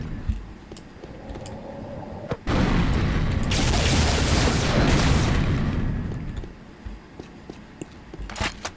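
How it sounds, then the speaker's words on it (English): A dynamite arrow from a mutator for the video game Unreal Tournament 99 detonates with a sudden loud, roaring blast that rumbles for about four seconds before cutting off, framed by quieter in-game ticks and clicks. "dynamite arrows just make an explosion"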